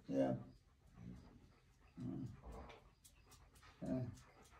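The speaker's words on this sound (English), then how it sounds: "There's the dog." A dog whimpering and whining in a few short, repeated bursts at roughly one-second intervals, faint and somewhat distant in a quiet room.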